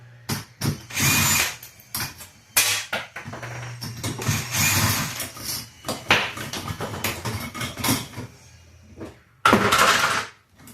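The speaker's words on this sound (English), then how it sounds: "Drill makes it go a whole lot faster." A power drill whirs in short and longer bursts while removing a ceiling fan, starting and stopping repeatedly with brief pauses, loud and close.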